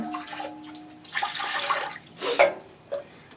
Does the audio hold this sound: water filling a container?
yes